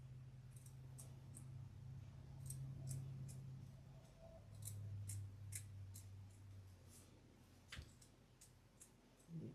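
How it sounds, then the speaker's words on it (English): Sharp scissors snip through the backing of a piece of fur in a series of quiet, close clicks and crisp cuts over a low steady hum. "You just want to keep cutting the backing"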